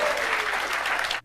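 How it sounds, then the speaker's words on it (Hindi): A classroom of students clapping their hands in celebration, a dense burst of loud applause from many people that cuts off abruptly after about a second. "ताली बजाकर जश्न मनाओ"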